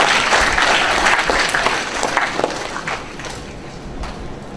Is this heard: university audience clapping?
yes